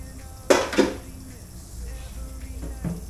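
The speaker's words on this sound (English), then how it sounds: "Gotta wash that wok." A wok and dishes are washed in a kitchen sink. Two sharp metallic clanks come close together, then softer knocks against a faint background of running water.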